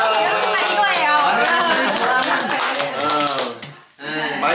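Family and friends clap at a child's first birthday party, a dense burst of close applause mixed with excited voices and cheering.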